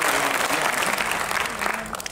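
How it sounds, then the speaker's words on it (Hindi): Loud audience applause at a Hindi comic poetry gathering, a dense continuous roar of clapping from a large crowd, thinning slightly toward the end. "एक बार हाथ ऊपर करके जोरदार तालियां बजाकर उनका"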